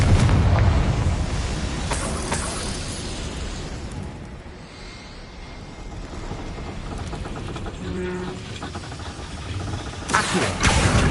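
A Confringo blasting spell from Hogwarts Legacy goes off as a loud explosive burst at the start, fading into a rumbling tail, with another blast swelling near the end.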